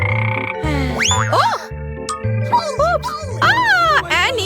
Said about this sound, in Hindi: वाह, यह एक मेंढक है।